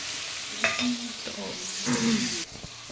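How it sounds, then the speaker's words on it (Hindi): Masala spices roasting and frying in a pan with onion for a chana aloo sabzi, a steady close sizzle broken by several stirring scrapes and clinks. "अभी हम मसाला भूंज रहे हैं, मतलब मसाला भूंजे, मसाला को लाल कर रहे"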